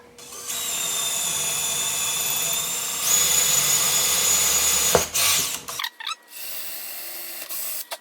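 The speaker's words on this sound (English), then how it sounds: "And we'll go ahead and drill." A power drill whines steadily for several seconds while drilling a hole for a cabinet handle, its pitch shifting as it bites, then stops and restarts in short bursts.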